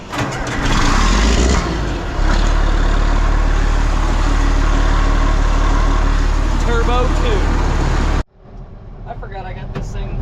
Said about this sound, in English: We're going to get a nice cold start here on the 4650.